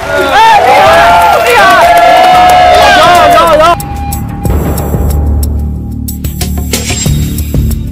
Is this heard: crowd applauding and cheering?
yes